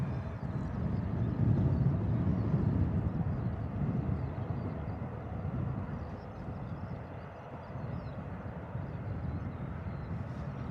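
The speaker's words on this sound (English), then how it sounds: "Aer Lingus ATR coming in from Dublin. ATR 72600. Beautiful arrival." An Aer Lingus ATR 72-600 turboprop arriving from Dublin on final approach at Bristol Airport, a broad low engine rumble with a swelling then fading roar in the distance and light wind noise.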